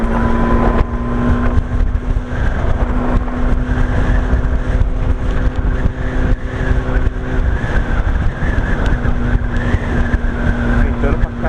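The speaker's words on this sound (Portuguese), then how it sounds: "Ventando pra cacete." Strong gusty wind roaring over the microphone while riding a Yamaha R1 motorcycle to work in Sydney, a loud continuous rush with engine hum underneath and a rider talking.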